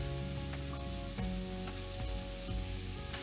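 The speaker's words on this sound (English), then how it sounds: "then I add the meat. So I have 500 grams of lamb mince." Lamb mince frying in a pan with a steady, loud sizzle and occasional stirring scrapes and knocks, no talking.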